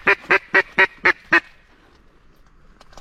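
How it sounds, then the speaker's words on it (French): A duck on a riverbank gives six quick, loud quacks in a steady run, then falls quiet apart from faint background sound. "Il y a un canard qui arrive."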